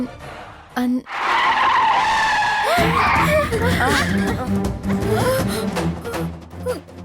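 A car skids hard while being driven recklessly, giving a loud tire screech that lasts about two seconds, and then people talk over a busy background.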